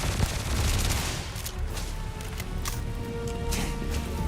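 Rapid gunfire from a weapon in Starfield, a dense rattle of shots running steadily through the whole stretch with no voices over it.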